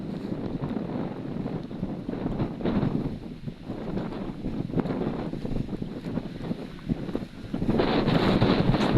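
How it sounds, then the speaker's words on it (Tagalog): Strong wind roars and buffets against the microphone continuously beside a road, gusting louder toward the end. "Hangin."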